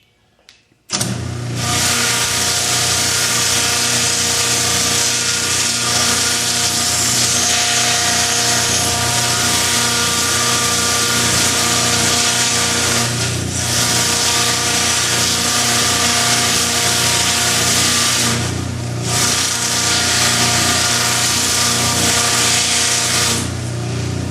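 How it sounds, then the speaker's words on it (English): A flap sander grinds steadily against a buffalo skull's horn at a sanding station, a loud continuous power-tool whine with two brief dips, running alone without speech for over twenty seconds. "got my flap sander here. I'm going to very gently go over this."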